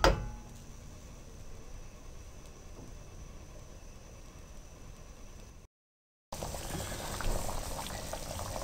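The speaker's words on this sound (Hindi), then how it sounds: "और इसको उबलने दें।" A potato, carrot and pea curry boils in water in a pot, giving a steady, close bubbling and gurgling. The sound cuts out briefly, then returns louder and brighter.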